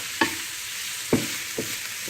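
Food cooks gently in a frying pan, a soft steady sizzle running throughout, broken by three scraping clicks of a utensil against the pan, two sharp and one fainter.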